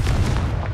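A Confringo spell blast in Hogwarts Legacy: a single deep, booming burst that rumbles heavily for under a second, loud and close, with no talk.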